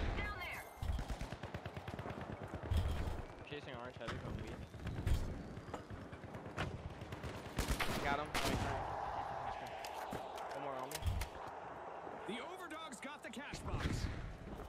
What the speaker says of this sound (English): pink team shooting at me now